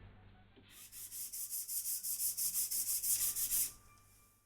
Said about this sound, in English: A little bit of sanding, go a big way.